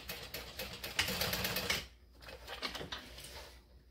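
A sewing machine runs a zigzag stitch across a bucket bag, a steady mechanical whir for about two seconds, then lighter intermittent clicking and short bursts as the sewing slows.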